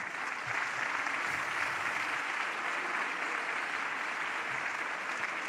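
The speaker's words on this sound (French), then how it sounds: "On va applaudir nos intervenants." An audience at a medical conference plenary applauds the speakers, producing a steady, continuous wash of clapping from a large crowd heard at moderate distance.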